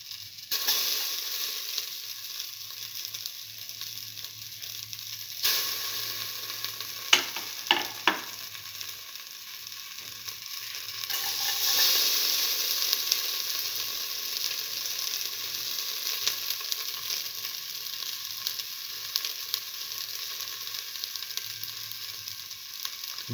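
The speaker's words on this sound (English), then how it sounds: "Now put in the finely chopped ginger" Finely chopped ginger frying in a pan for a black lentil and ash gourd rice dish, a steady bright sizzle that surges as it goes in, with a few quick utensil clicks and stirring scrapes.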